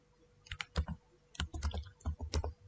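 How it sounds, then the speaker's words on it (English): Fingers type on a computer keyboard while text is entered in an Excel spreadsheet. Crisp key clicks come close up in two quick bursts separated by a short pause, with no talking. "so type similar text"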